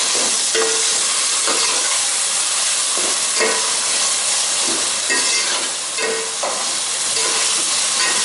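Finely chopped, peeled tomatoes drop into a sizzling pot of white mutton pulao, a loud, continuous frying hiss broken by repeated scraping stirs at a regular pace, with no voices.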